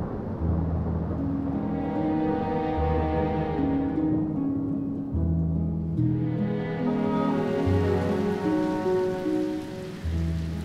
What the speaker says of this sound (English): in early October, the first rains arrive